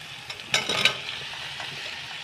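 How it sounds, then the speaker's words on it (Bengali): Fried soy chunks and potatoes being sautéed with spices in a pan, giving a steady low sizzle with a short burst of louder frying and stirring noise near the start. "এবার ভালো করে এটাকে কষিয়ে নেব মশলার সঙ্গে"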